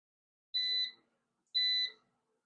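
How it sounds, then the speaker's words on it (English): A kitchen appliance signals that pasta is done cooking with two clear, evenly spaced high beeps, each about half a second long, heard alone in a quiet room. "it's beeping saying it's done, and it says end"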